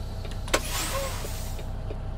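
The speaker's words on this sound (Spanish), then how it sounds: "Vamos a poner el frenazo." A heavy truck's brakes from a truck simulator game mod, hauling a double livestock trailer of 81 tons: a sharp burst followed by a hissing, whining release over a steady low engine hum.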